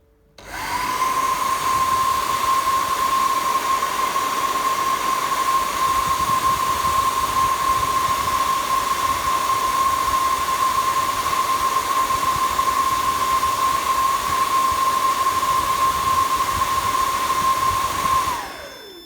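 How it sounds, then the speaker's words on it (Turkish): A hair dryer blowing heat onto a temperature and humidity sensor switches on and runs with a steady, loud whirring whine for about eighteen seconds, then cuts off. "Şimdi fön makinesi sayesinde sıcaklık nem sensörüne ısı vereceğiz"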